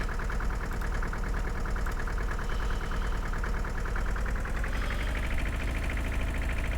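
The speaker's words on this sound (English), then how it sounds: "Then I drive this tractor over here to sell it." A tractor engine drives along in Farming Simulator 2013, a low, rhythmic, pulsing chug that stays steady and close, with no talking over it.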